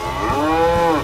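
A cow in a video game lets out one loud, close, drawn-out moo with a strong tonal bellow lasting about a second.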